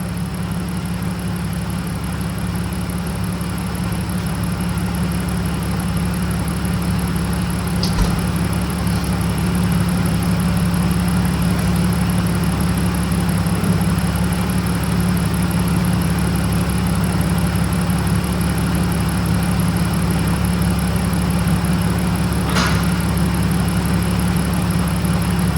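A BMW E36/E46 engine is held at a steady raised rev during a coolant bleed, a loud, constant drone with a high whine above it and a couple of faint clicks.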